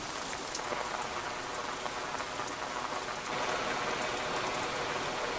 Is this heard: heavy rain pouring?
yes